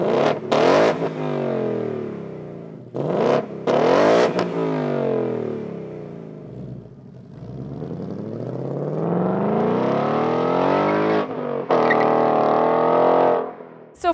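A 2018 Ford Mustang GT with active exhaust in normal mode revs repeatedly outdoors, with short blips before a long climbing rev that peaks and drops, sitting close and loud with wind noise behind.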